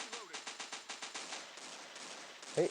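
A burst of automatic gunfire in the shooter game Crisis Action: about eight quick, evenly spaced shots in the first second and a half, then trailing off into fainter noise, with a short sharp blip near the end.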